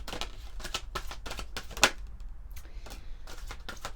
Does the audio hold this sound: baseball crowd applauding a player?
no